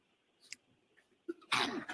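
A sneeze bursts out in a quiet courtroom after a couple of faint throat noises, one sharp loud blast close to the microphone.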